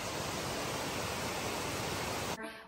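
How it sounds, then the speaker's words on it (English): Running water from waterfalls and streams along a hiking trail near Spearfish, South Dakota, a steady, loud broadband rush with no break, ending abruptly in a brief quieter moment. "This had a lot of running water."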